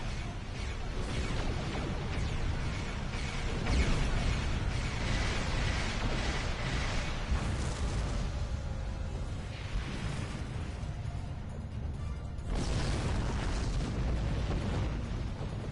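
A destroyed satellite exploding in a Klingon Empire space battle, a long rumbling roar of blasts and crackling bursts that fills the scene loudly, with a brief dip before the din surges again.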